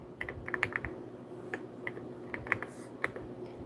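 Irregular clicks and clacks of keys struck on a computer keyboard, close and fairly crisp, in short bursts with small pauses over a faint background hum.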